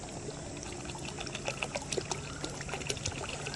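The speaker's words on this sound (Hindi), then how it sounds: "थोड़ा पानी और डाल दूँ" Water pours and trickles steadily into a bowl, a soft continuous splashing with small bright drips, fairly quiet and without talk.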